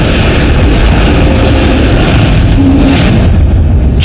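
A large Boeing firefighting aircraft flies over a wildfire in Chile, its loud, steady engine and propeller roar filling the air continuously with no talk.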